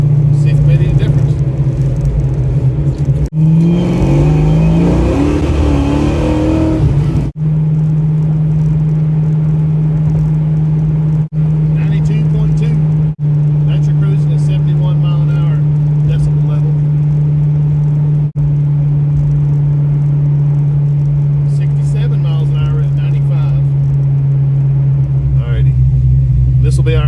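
A Fox Body Mustang engine idling, a steady low rumbling drone that runs without a break for about twenty-seven seconds, loud and close, with a brief change in texture near the start.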